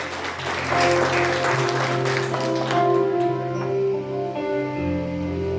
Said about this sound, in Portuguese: Aplauda para valer, o nome de Jesus